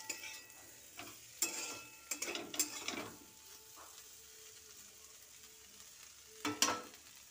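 Sliced potatoes frying in a little oil in a pan, a faint soft sizzle broken by several scraping stirs and clatters of a spatula, quiet between strokes.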